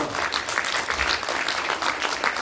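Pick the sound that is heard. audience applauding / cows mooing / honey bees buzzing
audience applauding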